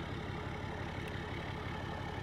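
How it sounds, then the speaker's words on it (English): A steady, low truck engine rumble idles continuously at close range, with no voices over it. "The truck is running."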